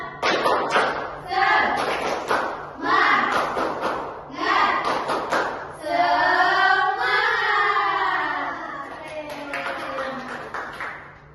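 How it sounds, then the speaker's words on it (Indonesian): A group claps in quick rhythmic bursts, mixed with loud chanting voices of several people. "Satu, dua, tiga. Tepuk semangat."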